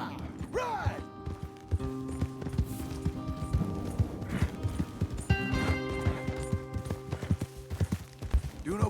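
Horses gallop in Red Dead Redemption 2, with steady rapid clip-clop hoofbeats and creaking tack near and loud throughout, over a musical score, with a brief whinny early on.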